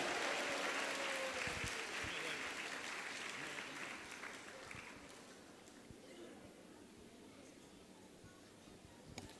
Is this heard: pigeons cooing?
no